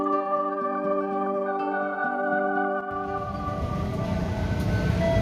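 A train idles at Kediri station with a sustained tonal hum, then a louder rumbling roar takes over as it moves.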